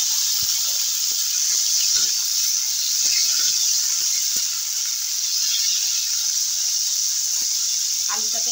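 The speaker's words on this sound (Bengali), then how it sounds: "আলুটাকে একটু ভেজে নেব।" Potatoes frying in about half a spoon of hot oil in a pan, a steady bright hiss running unbroken throughout, with faint clicks from stirring.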